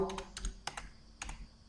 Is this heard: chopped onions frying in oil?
no